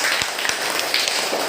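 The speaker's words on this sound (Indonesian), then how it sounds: "Tepuk tangan." Classroom applause from students in a primary school coding lesson, a brief burst of many hands clapping together, close and steady throughout.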